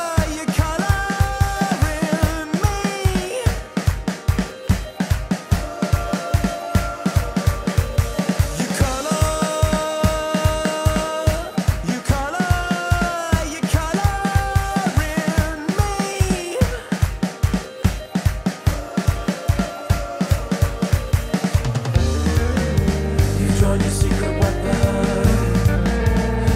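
Music played through a three-point equalizer during mastering: a dense, steady, loud mix with a driving regular beat and sustained melodic lines throughout, the texture changing near the end, with no voices.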